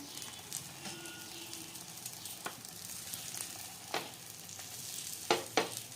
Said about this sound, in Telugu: నేను నెయ్యి వేసుకుంటున్నానండి ఇది ఇలా చేసుకోవాలండి ఇది సిమ్లోనే పెట్టి కాల్చుకోవాలండి